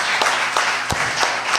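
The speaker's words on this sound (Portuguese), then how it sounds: "Você pode aplaudir ao Senhor Jesus nessa manhã?" A congregation applauds during a Sunday morning church service, with steady, fairly close clapping that rolls on without a break.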